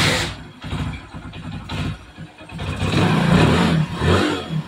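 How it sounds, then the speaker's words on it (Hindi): A motorcycle engine starts and revs up after a wire is reconnected in a bike anti-theft check, a rough mid-pitched idle rising into louder, sustained revving toward the end, with no talk over it. "आप देख सकते हैं बिल्कुल बाइक स्टार्ट है, रेस पकड़ रेस।"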